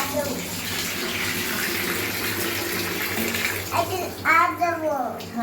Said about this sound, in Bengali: হোমা জলটা বন্ধ করে দাও